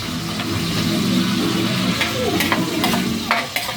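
Squid adobo being cooked in a pan, with steady close sizzling and frying under intermittent scraping stirs from a utensil, continuous throughout.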